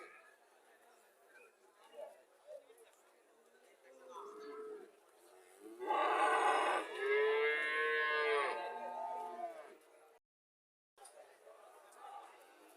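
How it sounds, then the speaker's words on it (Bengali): Cattle at a rural cow market in Cumilla, Bangladesh, with Haryana-breed cows and calves on sale: a loud, drawn-out moo close by near the middle, with softer lowing and market chatter around it. "এখানে একটা গাভি দেখা যাচ্ছে।"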